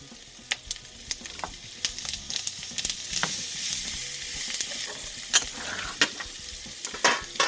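Ginger and bay leaves sizzle and fry steadily in a pan, with bright crackling spatter throughout and several sharp pops and stirring scrapes standing out, for a Bengali salmon mustard fish curry.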